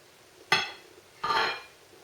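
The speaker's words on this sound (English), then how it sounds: "Let's just cut a slice and see what it's like." A knife cuts a slice of Victoria sponge cake, giving two short, bright clinks against the plate a moment apart, close and clear in a quiet room.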